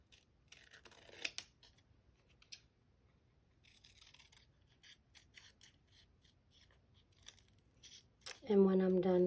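Scissors snip through paper while cutting out a paper handprint turkey craft, a few sharp quiet cuts in a quiet room, followed by a short burst of louder speech at the end.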